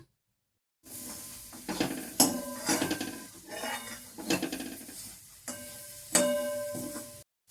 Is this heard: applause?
no